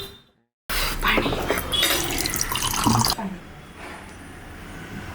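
A household tap runs water into a vessel, starting abruptly after a brief silence as a loud splashing gush, then dropping to a softer trickle near the end.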